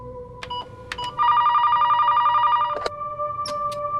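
An office desk telephone rings in a steady repeating electronic tone, loud and close, with a few short beeps and clicks before and after and no voices.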